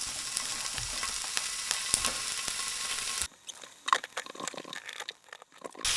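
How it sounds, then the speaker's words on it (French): Bacon fries in oil in a pan with a loud, dense, close sizzle for about three seconds, then drops to a quieter spell of scattered crackles and light clatter. "je me fais griller du lard"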